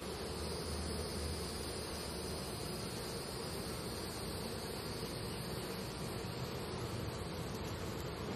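Honey bees swarm around an open hive during a honey harvest, a dense continuous buzzing drone filling the scene at steady, moderate loudness with no talk.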